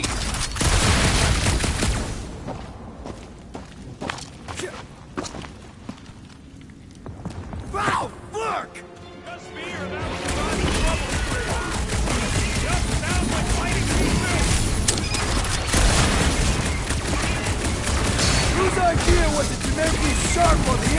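Gunfire in Guardians of the Galaxy, rapid volleys of shots and impacts in loud bursts amid game effects, with voices talking through parts of the action.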